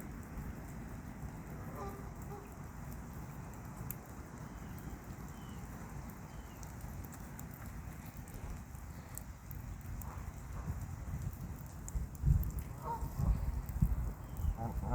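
Steady rain falls outdoors near a pond where water birds feed, a constant soft hiss of drops throughout with a few louder splashes and taps toward the end.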